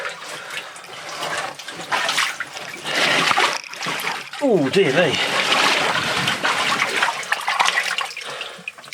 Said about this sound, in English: I can hear a lot of water up there